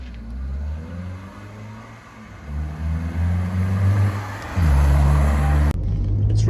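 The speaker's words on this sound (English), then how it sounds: "Very buzzy engine, 5-speed gearbox" A 1985 Honda CRX 1.5i with a buzzy engine and 5-speed gearbox pulls from inside the car, the engine note rising and swelling louder through the revs before a brief drop, with no talking.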